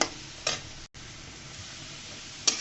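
Potatoes fry in a pan for a radish-greens dish, giving a continuous close sizzle marked by two sharp stirring scrapes and a brief dropout near the start.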